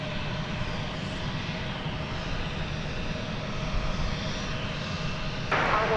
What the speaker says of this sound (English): With this Airbus A319 coming in from San Luis Potosí in Mexico.